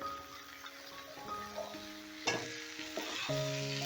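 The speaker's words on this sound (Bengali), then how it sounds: "এবারে এই সবজিটাকেও মিনিট পাঁচেকের মতন ভালো করে আমি ভাজা ভাজা করে নেব" Pumpkin, brinjal and green peas fry in a pan with a quiet, steady sizzle, broken by a couple of sharp utensil knocks against the pan over light background music.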